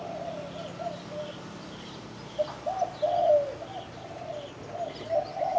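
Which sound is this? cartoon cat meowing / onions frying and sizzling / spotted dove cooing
spotted dove cooing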